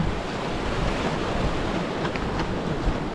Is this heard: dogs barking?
no